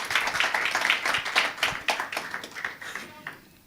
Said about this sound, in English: A round of applause to our wonderful panelists.